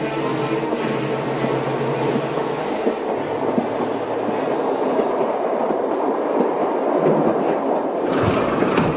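A train rolls steadily along the rails on a trip between Paris and Brussels, with a continuous loud rumble and faint rhythmic clatter of the wheels and carriages throughout and no voices.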